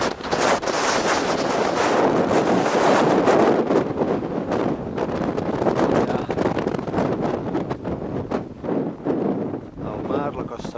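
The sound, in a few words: wind on Matagalls mountain summit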